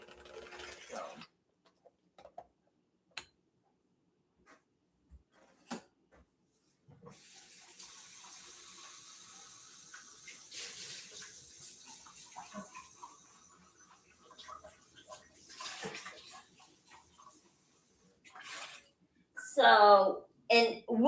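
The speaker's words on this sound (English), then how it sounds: "So now we're going to put in just a little bit of water." A small amount of water poured in while cooking, a soft steady trickle lasting several seconds, with quiet rustles and a few sharp clicks around it and clattering near the end.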